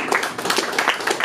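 Audience applause during a debate at Café Society, a brief burst of many hands clapping at a steady level for just over a second.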